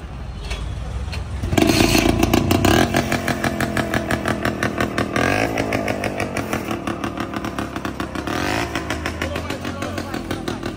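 A motorcycle engine idles and runs nearby with a steady, pulsing putter that rises sharply after a quiet start, while people talk over it.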